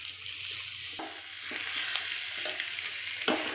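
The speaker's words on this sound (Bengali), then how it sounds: "ভালো করে মশলাটার সঙ্গে আলুটাকে মাখিয়ে নেব।" Potatoes being stirred and mixed with spices and chopped coriander for pakora in a pan on the stove, a steady soft scraping with faint sizzle throughout, close by and without talk.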